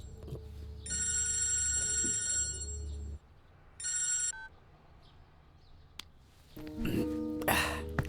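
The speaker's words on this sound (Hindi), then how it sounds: "किसका फोन है?" A telephone ringing indoors in two trilling bursts, the first longer, followed by quiet room tone and then a short spoken exchange near the end.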